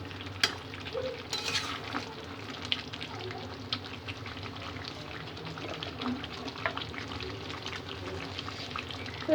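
Chicken curry bubbles and fries in a pan, a continuous soft sizzle with faint crackles and occasional stirring clinks at close range.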